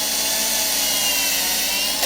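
A power drill bores a small pilot hole into a poly roofing panel, giving a steady, loud, high whirring grind that runs unbroken for a couple of seconds, close up with no talk.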